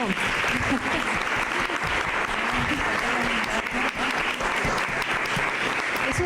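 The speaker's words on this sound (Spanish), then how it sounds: "otra vez un aplauso" Audience applause after a poetry recital and conversation event: steady, close clapping fills the whole stretch, with voices faintly audible beneath it.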